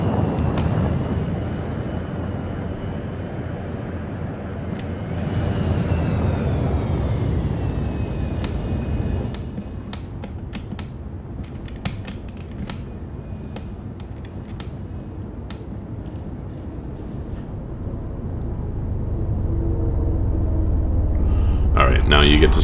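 A spaceship in Elite: Dangerous descends to dock at a station, its engines a steady low rumble and whoosh that swells and shifts in pitch, with a voice talking over it.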